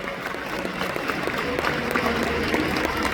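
An audience applauds steadily, with dense, continuous clapping from a crowd filling the room for a few seconds.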